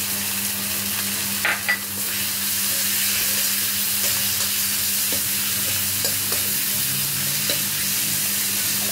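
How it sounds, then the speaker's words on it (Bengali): Tomatoes with a little salt sizzle and spit in a hot pan while being stirred, a steady close frying hiss broken by scraping clicks of the spoon, with no voices. "এইবার আমি টমেটোগুলো দেব। টমেটোর সাথে একটু লবণ দিলাম,"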